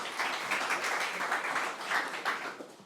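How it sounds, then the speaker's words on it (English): An audience at an investor event claps together in a roomy hall, producing a dense, steady patter of applause that holds for about three seconds. "Let's give him a round of applause"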